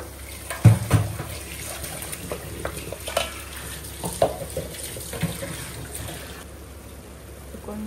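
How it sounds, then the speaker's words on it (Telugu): Tomato paste sizzles in a pan as it is stirred and fried at home, with a steady hiss and scattered soft scraping knocks close by, and no talk over it. "ఇప్పుడు మనం టమాటో పేస్ట్ యాడ్ చేసుకుందాం."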